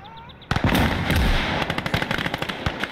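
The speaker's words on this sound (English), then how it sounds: "grenade should start hitting that position" Grenades burst on an enemy position in a World War II style war video game, a sudden loud blast followed by a rapid crackling string of sharp detonations and gunfire-like pops.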